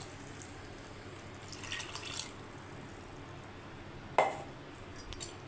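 Water splashes and trickles into a mixer jar coated with tomato paste in a home kitchen while a potato and chana dal curry is being made, heard as faint brief pours with a glassy clink near the end.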